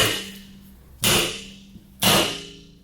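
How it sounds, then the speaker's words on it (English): A hammer strikes a stuck part during the teardown of a Briggs & Stratton 121S02 engine, with three sharp metallic blows about a second apart, each ringing briefly before fading. "you hit that with the hammer"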